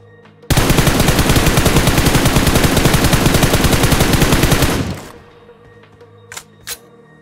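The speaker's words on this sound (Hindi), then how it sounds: "और यहाँ सामने पे गोली चली थी।" Sustained automatic gunfire in the BGMI PUBG Mobile battle royale game, a loud, rapid burst of shots lasting about four seconds, then quieter ambience with a couple of brief sharp clicks.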